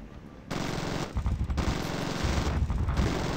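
Heavy gunship gunfire in the zombie shooter Zombie Gunship Survival rattles as a sustained, loud, dense automatic burst that starts after a brief quieter moment and pulses slightly without letting up.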